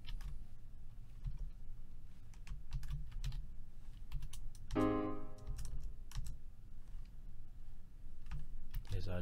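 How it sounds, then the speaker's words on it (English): Computer keyboard spacebar pressed repeatedly while entering chords in music notation software, a series of light clicks and taps close by, with a brief rattling burst midway. "I'm just pressing spacebar between these chords"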